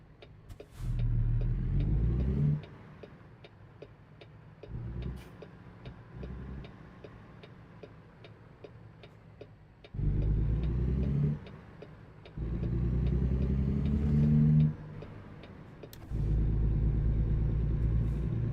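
A car is driving and making a turn. A turn signal ticks steadily throughout, while the engine's low rumble swells in several separate bursts as the car pulls away and accelerates, dropping back between them.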